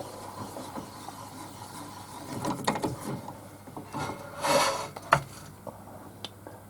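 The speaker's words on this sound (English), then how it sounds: "Bit of sanding to do then." Intermittent rasping and rubbing as a natural-edge pitch pine bowl is sanded, with a few sharper scrapes and a brief louder burst near the end, close by and fairly quiet.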